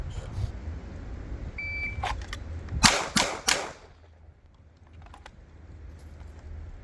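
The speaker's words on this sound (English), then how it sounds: "All we are doing is pointing and shooting." Three loud, sharp pistol shots in quick succession from a handgun with a taped-over optic, point shooting at 7 yards on a range, with quieter clicks before and after.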